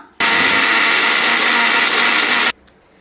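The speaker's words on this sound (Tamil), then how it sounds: "இப்போ நைஸாக ஒரு பேஸ்ட் மாதிரி அரைச்சிக்கலாம்" A mixer grinder runs as one loud continuous whir for about two seconds, grinding coconut, ginger, garlic, cinnamon, cloves and dried red chillies into a smooth paste, then stops abruptly into quiet.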